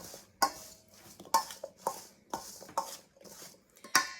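Seasoned chicken and potato pieces tossed in a bowl, giving a series of close clinks and wet shuffling knocks at roughly one-second intervals, no talk.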